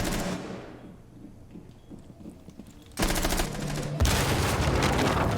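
Video game gunfire with no recoil: a single shot fading into quiet, then two sustained loud bursts of rapid automatic fire, dense and continuous.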